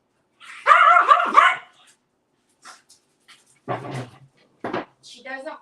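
Dogs bark in a few short close bursts at the start, followed by quieter yips and fragments of a voice scolding them.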